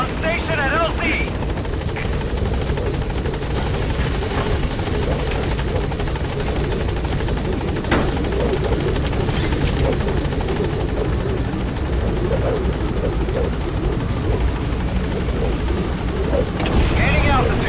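The B-Quad helicopter in Metal Gear Solid 5 arrives at a landing zone with a loud, steady rotor roar that fills the whole stretch, a radio voice speaking over it.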